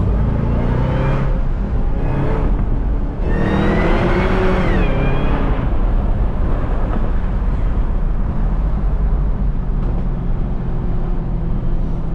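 A loud tuned, supercharged Cadillac CTS-V engine revs hard, rising pitched supercharger whine sweeping upward for a few seconds, then settles into a steady rumbling drone as traffic noise continues.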